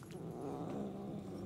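A cat growls low and steady in Murdered: Soul Suspect, a continuous rumbling snarl held close and fairly loud for about a second and a half, with no talk over it.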